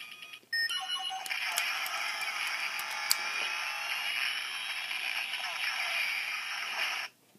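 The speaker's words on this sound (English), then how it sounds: "Now that sound is the sound that it makes when the Omnitrix actually turns the wearer into" Ben 10 deluxe Omnitrix toy giving off its transformation effect: a sharp click, then a sustained bright electronic buzzing tone lasting several seconds, fairly faint and close, stopping abruptly.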